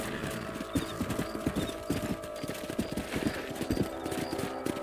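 Horse hooves galloping in the video game Red Dead Redemption, a rapid, rhythmic clip-clop of repeated strikes close up, steady throughout with a faint neigh and game ambience behind.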